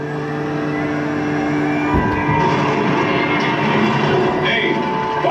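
A spacecraft maneuvering thruster fires in a cartoon journey to Mars: a loud, steady rushing roar over a low hum, with a surge partway through.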